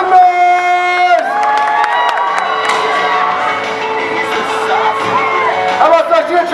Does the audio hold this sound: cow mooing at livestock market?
no